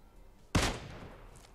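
A single loud gunshot in the mobile battle royale game PUBG Mobile cracks out suddenly, then decays into a fading rumble, with no talk over it.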